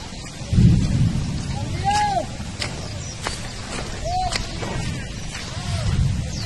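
A rainstorm falls on farmland where harvested grain lies in the open, a steady hiss of rain with a low thunderous rumble swelling near the start and again toward the end, and a voice speaks over it.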